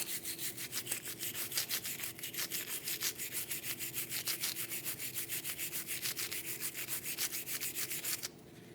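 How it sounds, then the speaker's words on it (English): Steady rhythmic wire-brush scrubbing on the rusty parking brake actuator of a 2010-2015 BMW X1 xDrive, fast, even back-and-forth strokes close up that stop abruptly near the end. "We're going to take a wire brush to our parking brake actuator. Clean any of the rust off."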